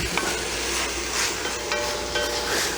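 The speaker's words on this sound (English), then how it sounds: "we're gonna let that saute" Ground beef with onions, carrots and celery sautés in a pan, a steady close sizzle and crackle with occasional scraping of a stirring utensil, no voices.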